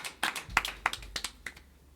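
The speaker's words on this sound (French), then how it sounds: "on applaudit quand même" A few people clap sparsely and unevenly, about eight distinct close claps tapering off into quiet.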